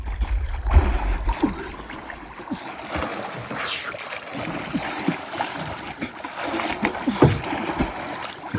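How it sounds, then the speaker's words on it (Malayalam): Small fishing boat out at sea off Lakshadweep, with steady rushing water and splashing against the hull, broken by a few louder slaps and thuds and brief voices. "കടലിന്റെ നടുവിലാണെന്ന് മനസ്സിലായിക്കോളൂ."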